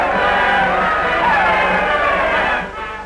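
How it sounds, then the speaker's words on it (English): A partisan West Coast stadium crowd at the 1960 NFL Pro Bowl roars steadily as a runner advances, a dense, loud wall of cheering that dips slightly near the end. "The partisan West Coast crowd comes to its feet as John Arnett skirts the right flank"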